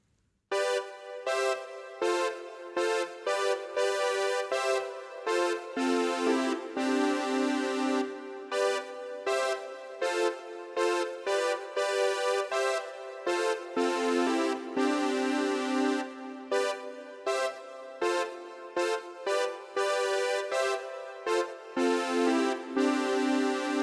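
The famous synthesizer part, recreated as a patch in Native Instruments Massive. Bright, brassy stabbed chords play in a bouncy, steady rhythm. The synth sounds alone, clear and moderately loud, with no voices.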